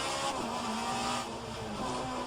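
An Alfa Romeo 155Ti race car driving at Bathurst in a racing video game, its engine droning steadily and loudly with a faint tire hiss.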